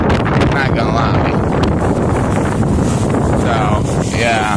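Strong, freezing wind blowing outdoors, loud constant buffeting against the microphone that roars and rumbles without pause, with a voice faintly mixed in beneath the gusts.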